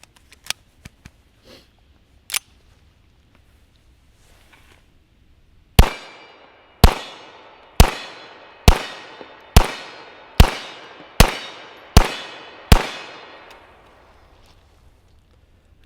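Nine sharp shots from a 9mm 1911 pistol ring out one after another at an even pace, each with a loud crack and a short ringing decay, after a few faint clicks of handling.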